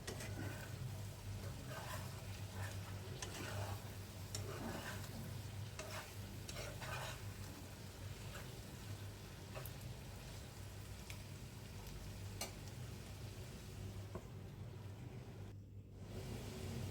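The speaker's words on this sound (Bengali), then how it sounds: "একটু নেড়ে চেড়ে দেব।" Chicken curry stirred in a pan, soft scraping and shuffling strokes over a continuous low sizzle and background hum, quiet and fairly steady for a long stretch, with no speech.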